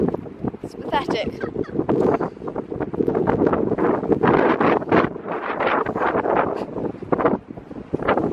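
Strong gusty wind batters the microphone on a sandy beach near dunes, roaring and buffeting continuously and close, while people talk beneath it.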